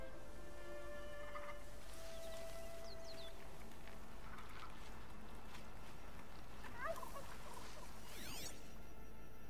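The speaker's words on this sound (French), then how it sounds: "Ah, oh, c'est dindon." A turkey gobbles faintly in the game Horizon Zero Dawn, brief warbling calls under a steady ambient bed, with soft footsteps and small incidental noises around them.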